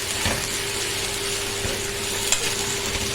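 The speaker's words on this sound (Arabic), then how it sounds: "هقعد اقلب فيه بقى لحد ما يسيح معايا." Siwa dates are stirred in a pan with ghee and a little water over heat, giving a steady close sizzle with soft scraping strokes of the spoon throughout.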